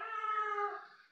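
A cat gives a single close, tonal meow, rising slightly and then fading, heard alone in a faint recording.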